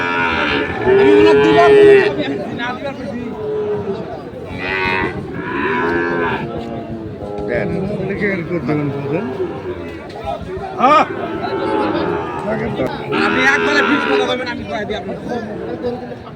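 Sahiwal-breed cattle and calves moo repeatedly, loud and close, amid a busy crowd murmuring in the background at Ambari livestock market.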